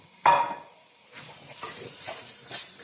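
Meat dropped into a hot pan of seasoning paste for a Peruvian quinoa stew, a sharp sizzling burst at the start that settles into softer crackling hiss with a few stirring scrapes.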